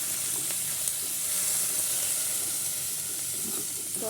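Fried Maggi noodles in a pan give off a steady, even hiss of sizzling and steam after water goes in, a constant close wash of sound with a few faint clinks.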